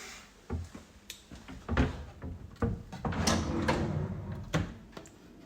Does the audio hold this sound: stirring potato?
no